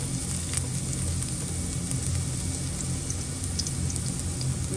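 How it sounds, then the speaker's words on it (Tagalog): Garlic and onion frying in a pan for chicken caldereta, a dense steady sizzle with faint crackles, close and continuous, no voices. "ikisa lang tayo ng bawang sibuyas"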